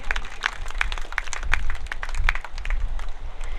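An audience at a Hanuman temple function claps in a steady rhythmic beat, sharp repeated claps over a low murmuring crowd, moderately close.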